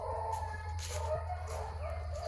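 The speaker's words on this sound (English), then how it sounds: "Dogs got to run." Hunting dogs chase a rabbit in humid weather, giving off repeated whimpering yips and short barks at moderate distance over a steady low background hum.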